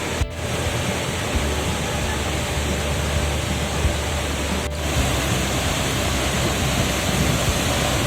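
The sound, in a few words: Buntot Palos Falls waterfall in Pangil, Laguna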